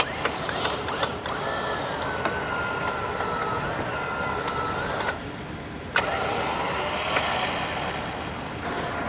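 A truck engine drones steadily while straining to drag a large log during firewood cutting, with scattered sharp clicks and knocks over the running motor and a brief dip in the middle.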